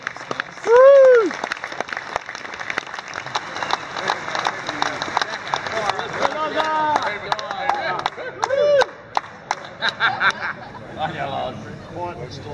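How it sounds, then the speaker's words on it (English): An audience at a mining health and safety conference in Townsville claps through a dense, steady round of applause, with whoops and cheers rising above it and crowd chatter mixed in. "Please give a round of applause to Steve."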